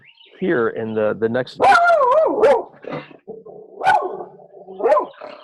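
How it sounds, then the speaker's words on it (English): A pet dog named Amber barks and whimpers nearby in a series of loud, pitched yelps and barks, overlapping a man's speech. "You can hear my dog."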